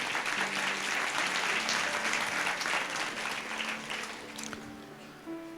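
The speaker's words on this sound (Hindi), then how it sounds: "जोर से ताली बजाएंगे प्रभु के लिए" A church congregation at a Sunday service claps loudly and densely for the Lord, the sustained applause gradually fading toward the end.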